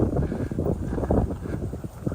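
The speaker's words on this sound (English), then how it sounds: "it's pretty windy today, as you can probably hear" Gusty wind buffets the microphone on a walk through Kinuta Park in Tokyo during plum blossom season, a steady, loud low rumble that surges and dips with each gust and carries no speech.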